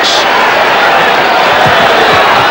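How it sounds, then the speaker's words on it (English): Fans in a basketball arena at a 1992 Celtics–Bulls game cheer and whoop in a constant loud roar, with a voice talking over the crowd. "It has been an enthusiastic crowd from the start."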